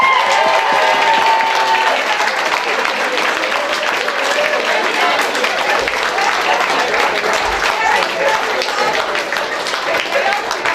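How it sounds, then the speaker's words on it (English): Wedding guests break into loud, sustained applause for the bride at a reception, dense clapping filling the room close by, with scattered voices mixed in. "I think everyone should applaud the bride for how well she looks today"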